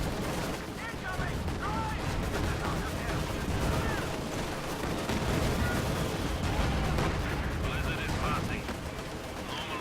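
An artillery barrage rages in the Company of Heroes 2 video game, a dense, continuous roar of shelling and gunfire with booming impacts layered throughout, loud and unrelenting.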